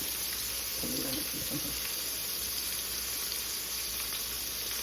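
Pork ribs frying in a pan of hot oil give a steady, fairly quiet sizzle with a constant hiss, one or two brief bubbling spatters early on, and no talking.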